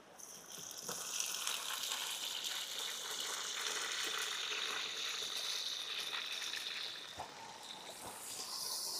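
Onions and tomatoes fry for a village-style crab biryani cooked outdoors in the forest, giving off a steady, bright sizzle that swells slightly and holds throughout, with no one talking.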